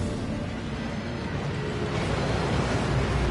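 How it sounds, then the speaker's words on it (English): A waterfall rushes in the video game Hogwarts Legacy, a steady broad roar of falling water that holds at a constant, moderately loud level throughout. "That waterfall washes away all enchantments."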